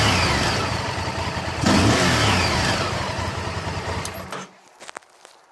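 A Honda Firestorm motorcycle, freshly tuned after a carb clean and cylinder head rebuild, roars loud and close at full throttle, then drops sharply back toward idle with a few trailing pops.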